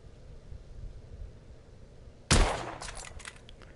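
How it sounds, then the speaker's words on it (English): A single sharp, loud sniper rifle shot in The Order 1886 on PS4 cracks out of a quiet rumbling background, followed by a decaying echoing tail. "I know, a sniper rifle."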